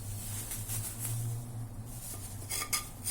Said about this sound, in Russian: Попробую счистить кусочек нагара.